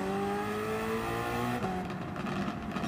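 A Toyota TS020 GT-One race car in Gran Turismo 7 screams at high revs, its steady engine drone stepping down with a gear change partway through before settling into a rougher, lower roar, loud and alone.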